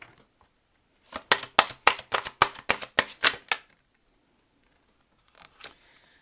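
A deck of tarot cards is riffled and tapped in a quick burst of about nine crisp, close snaps, followed by quiet and a couple of faint soft rustles.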